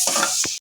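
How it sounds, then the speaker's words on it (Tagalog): Garlic and onion sauté in hot cooking oil, giving a brief bright sizzle with a stir partway through before cutting off abruptly. "Tapos gisa tayo ng bawang sibuyas."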